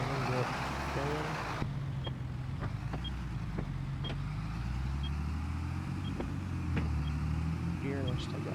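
An old tractor drives along a road, its low engine droning steadily close by with a few clicks and rattles, while someone talks over it.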